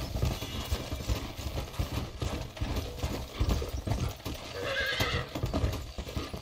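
Horse hooves clop steadily over a low rumbling background in the video game Red Dead Redemption, with a whinny rising near the end.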